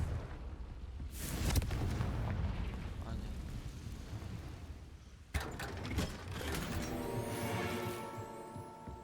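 In Hogwarts Legacy, a Confringo fire spell bursts with a loud whooshing blast. A rumbling, fiery roar follows and a second burst comes later, with game sounds layered throughout.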